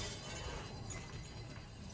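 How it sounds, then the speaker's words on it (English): Glass shattering and tinkling as a surround audio demonstration effect, a dense, sustained broadband crash of breaking glass filling the whole two seconds at steady loudness. "You won't just hear glass break."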